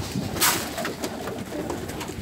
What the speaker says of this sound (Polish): Gołębi jest, jak mówiłem, 100 jakieś 4-5 sztuk